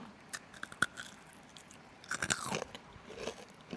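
Crisp bites into crunchy Japanese agar jelly candy with a firm sugary shell and soft interior: a single sharp crunch early, then a cluster of close crackly chews, fairly quiet and without talk.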